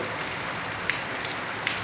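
Steady midday monsoon rain pours down in an even, continuous hiss, with a few faint drips or taps standing out briefly.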